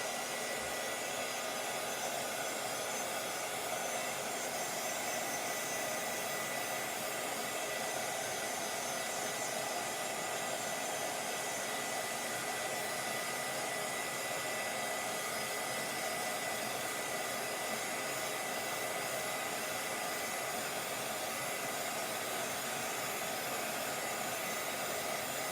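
A hair dryer blows steadily to dry a layered watercolour flower painting, a continuous, even broadband whoosh that holds for the whole stretch with no talking.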